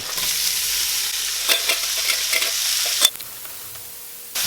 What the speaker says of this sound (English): Got about 4 more minutes of this, and then I'll be adding in the vegetables.